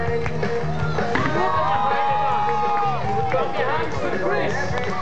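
A large crowd at a BMX stunt show roars and cheers continuously, with scattered clapping and shouting voices mixed into the dense, steady noise.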